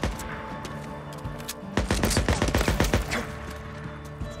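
Rapid gunfire in the action game Days Gone, a tight volley of loud, punchy shots fired in quick succession over about a second and a half amid game background sound.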